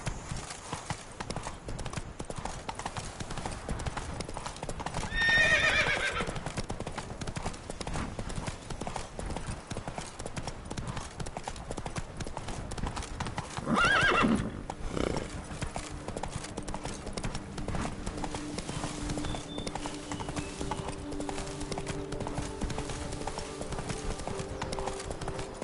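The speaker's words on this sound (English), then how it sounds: "Whoa there, Roach." Roach the horse gallops in the video game Witcher 3, with a continuous rhythmic clip-clop of hooves throughout and two short neighs partway through, heard without talk.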